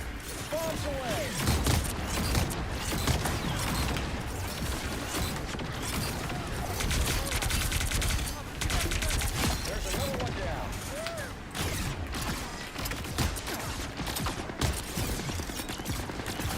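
Rapid bursts of video game gunfire aimed at the player crackle continuously alongside mechanical clicks and clatter, a dense, loud, busy soundscape running throughout.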